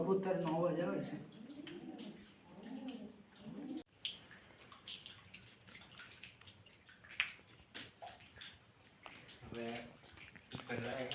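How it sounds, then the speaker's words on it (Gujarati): Pigeons coo in a cave near Ranavav, their soft rolling calls echoing under someone talking, with a steady high-pitched whine and scattered footsteps and knocks. "તમે ચેક કરો, કબૂતરનો અવાજ આવે છે."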